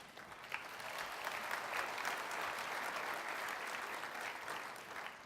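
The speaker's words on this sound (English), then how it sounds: "One more applause, a round of applause for Governor Brown, please." A round of applause from an audience at a speech honoring Governor John Y. Brown Jr. in New Orleans, with steady dense clapping holding loud throughout and no voices over it.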